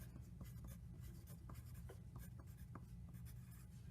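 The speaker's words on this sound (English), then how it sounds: "We're drawing it onto a piece of paper." Pencil scratching steadily across a sheet of paper while drawing textures, a continuous close-up rasp with small stroke accents, alone and fairly quiet.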